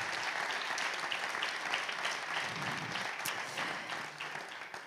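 Applause from an audience at the opening of a political party's campus event, sustained dense clapping from a large crowd at moderate distance, steady and then gradually easing.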